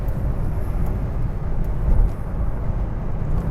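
Nitrous-injected Cadillac XLR accelerating hard, a dense, loud engine roar heard from inside, steady and rumbling with no talk.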